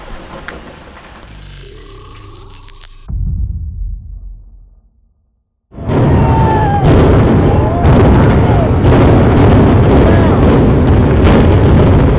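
A structure's demolition blast starts with a loud burst, falls briefly to near silence, then gives way to a sustained, heavy rumble of collapse with scattered cracks and pops. Voices can be heard faintly through the din.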